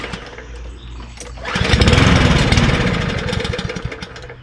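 MTD Cub Cadet Powermore push lawnmower engine, choked and pull-started, catching and revving up loudly into a rough, pulsing run up close.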